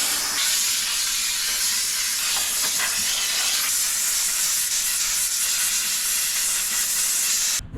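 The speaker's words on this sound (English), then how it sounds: "Steam cleaning the engine bay" A steam cleaner hisses continuously and loudly while cleaning a car's engine bay, a steady spray of steam that cuts off abruptly at the very end.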